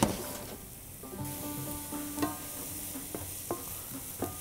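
Onions with a pinch of salt dropped into hot oil in a pan, giving a steady sizzle with a few sharp clinks and scrapes of the utensil, close and moderately loud.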